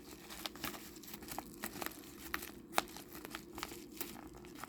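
A package is cut and torn open with soft, continuous crinkling and rustling of plastic wrapping, faint and close, with a few sharper crackles along the way.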